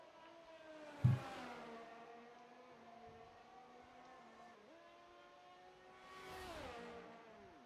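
Race car engine in a racing game lapping a circuit, high whine sweeping up and down through gear shifts and corners, with a sharp knock early on and a louder pass near the end.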